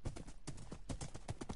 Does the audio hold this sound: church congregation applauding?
no